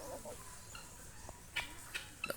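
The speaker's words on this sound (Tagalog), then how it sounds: "Tanawa guys ang mga manok." Chickens on a farm cluck in short, scattered calls at moderate distance over a steady outdoor background, with a few sharper clucks near the end.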